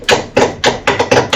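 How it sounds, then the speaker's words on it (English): A hammer strikes the dead wishbone ball joint on a 2004 VW Transporter T4 five times in quick, steady succession, sharp metallic blows close by with no talking. "I'm just going to basically give it a little hit there because it's all dead anyway, the wishbone"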